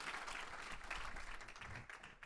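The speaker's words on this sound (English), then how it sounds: "You can clap for that." An audience at a talk on Indigenous roots of American democracy applauds, a faint but dense, steady patter of many hands clapping that fills the whole stretch without pause.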